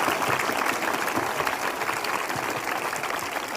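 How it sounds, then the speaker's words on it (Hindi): A church congregation at a Prophet Bajinder Singh Ministry service bursts into sustained applause, a thick, even roar of many hands clapping at close range from start to finish, with no talking. "धन्यवाद तालियों के साथ"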